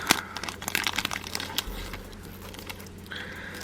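Nail foil packets crinkle and rustle in close handling, a run of light crackly bursts through the first couple of seconds that thin out into softer, scattered rustles.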